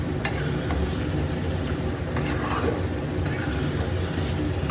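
About a kilo of mutton frying in a pan, a constant dense sizzle with faint stirring scrapes running steadily throughout, close and fairly loud.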